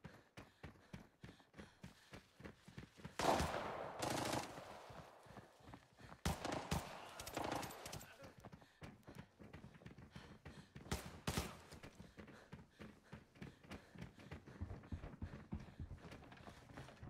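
Suppressed gunfire in Arena Breakout rattles out in quick bursts of muffled, clicky shots, with denser volleys clustered in a few spots and scattered single pops between them, fairly faint overall.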